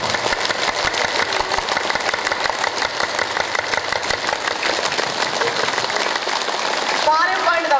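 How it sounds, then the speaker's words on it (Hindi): A group at a Patanjali yoga and meditation camp claps in a rapid, steady rhythm, sharp and continuous for several seconds, with a voice speaking over it. "आप ताली बजाइए"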